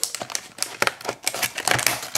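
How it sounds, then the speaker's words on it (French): Small scissors cutting open the cardboard packaging of an LG L1 II Android phone, a series of crisp snips and crinkling plastic and card, close and fairly loud. "alors petite paire de ciseaux, on ouvre la boîte"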